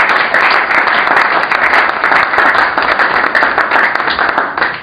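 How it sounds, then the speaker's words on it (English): Audience at a press conference for a fight night event applauding, a loud, dense and sustained burst of many hands clapping close by, steady for the whole stretch without talking. "So I think that deserves a round of applause."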